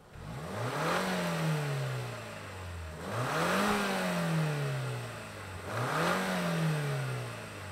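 A 2024 Lexus TX 350 SUV with all-wheel drive and a 10-speed automatic revs three times in a row. Each loud, near rev sweeps up in pitch, then falls back and settles before the next one.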